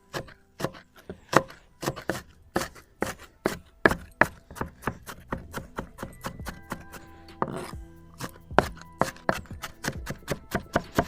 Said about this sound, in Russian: И все это дело тоже хорошо измельчаем.